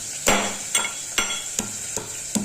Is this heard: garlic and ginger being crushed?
yes